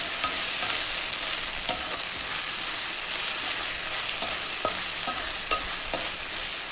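Ginger garlic paste sautés in hot oil in a pan for a soya pepper chukka, a steady loud sizzle and frying hiss throughout with a few light stirring scrapes and taps, no talking.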